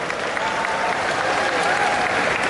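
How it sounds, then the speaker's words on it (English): Applause at a Wing Chun demonstration event, the crowd clapping densely and continuously, with some voices mixed into the ongoing clapping. "Let's just give them a round of applause to just encourage them"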